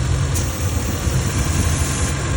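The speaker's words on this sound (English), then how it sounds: "So the engine speeds up." A 2008 Honda CR-V engine with lean faults and misfires idles with a steady low rumble close by, its note holding fairly even with only slight swells and no talk over it.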